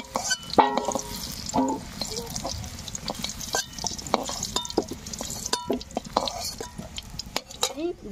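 Food fries and sizzles in a pan while a spoon stirs and scrapes against the metal again and again, close and irregular. Soft speech runs underneath, and the cooking is part of a spicy chicken curry made at home.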